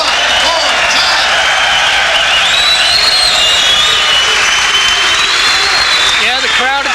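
A boxing crowd at the Blue Horizon roars and applauds during the Ronnie Hammonds vs Leo Edwards fight, a dense, sustained wall of clapping and cheering with whistles, and a voice talks over it near the end.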